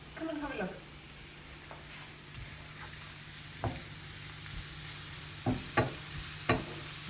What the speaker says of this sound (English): So we're going to add all of this in here. Everything. and give it a good mix.